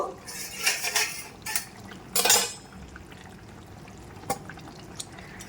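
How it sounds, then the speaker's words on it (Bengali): Boiled potatoes being mashed into a pot of katla fish curry with cauliflower, heard as clattering utensil-on-pot scrapes and knocks in short uneven bursts, fairly close, with quiet gaps between. "এবার আমি দুটো আলু গেলে দেব"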